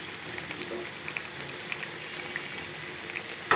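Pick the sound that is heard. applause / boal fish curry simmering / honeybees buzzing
boal fish curry simmering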